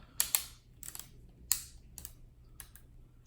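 Chrome thigh pieces on a GX-71 Voltron toy are flexed at their ratchet joints, making a short run of sharp, close plastic-and-metal clicks in irregular bursts against near silence.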